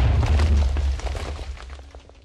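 A TNT blast from an extremely long piston-loaded cannon in Minecraft: one loud, deep boom at the start that rolls and crackles away over the next two seconds.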